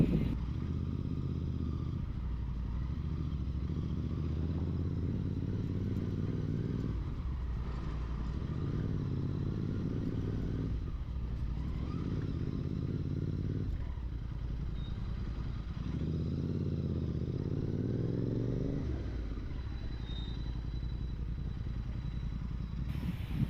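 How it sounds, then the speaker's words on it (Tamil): A GT motorcycle's loud exhaust rumbles while it is ridden along a road, rising and falling in repeated surges as the rider works the throttle, with occasional clatter. "அந்த எக்ஸாஸ்ட் வந்து சவுண்ட் ரொம்ப லவுடாக இருக்குது"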